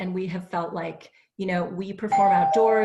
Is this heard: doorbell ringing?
yes